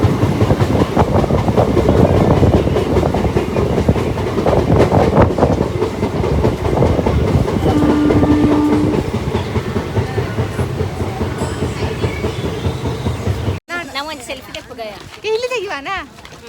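A moving train near Kundapura station rumbles loudly with a steady clickety-clack of wheels on rails, then cuts abruptly to quieter talk near the end.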